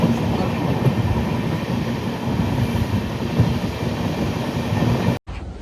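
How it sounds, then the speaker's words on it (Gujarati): A passenger train heading toward Rishikesh slowing as it approaches the station, heard from inside as a loud, steady rumble and rattle of wheels on rails that cuts off abruptly near the end. "હજુ આવી નહીં પણ ટ્રેન ધીમી પડી હો."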